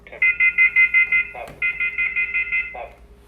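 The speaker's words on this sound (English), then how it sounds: "I'm unplugging it now before it drives us nuts with the alarms" A Cantronic M3000H temperature screening kiosk sounds its abnormal temperature alarm, a loud, rapid series of electronic beeps in two bursts with a short break between them.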